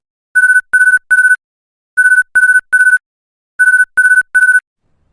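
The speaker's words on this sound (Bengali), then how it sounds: "আরিফ রুদ্র ভাইকে ফোন দিল।" A cartoon telephone rings for an incoming call in three evenly spaced groups of three sharp electronic trills, loud and clear against silence.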